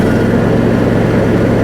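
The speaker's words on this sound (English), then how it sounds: "I'll rev down just a little bit here and start those blades." A John Deere E180 lawn tractor engine drones steadily and loudly at high revs close by as its mower blades are engaged, with no voices.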